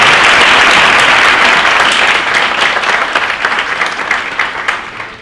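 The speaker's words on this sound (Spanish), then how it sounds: "Por favor, les pido un aplauso para la vocal." Loud, dense applause from a seminar audience greets an INE executive member, a steady wash of many hands clapping that gradually tapers off near the end.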